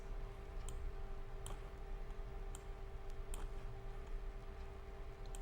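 Sharp computer mouse clicks, about five, spaced irregularly across several seconds over a steady electrical hum, made while operating a Philio dimmer in the Fibaro Home Center interface.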